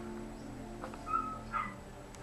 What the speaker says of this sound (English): She's got puppies. Oh, look at them.